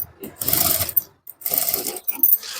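A sewing machine stitches piping in short, fairly close bursts of whirring with brief pauses between runs; a voice may be faint underneath.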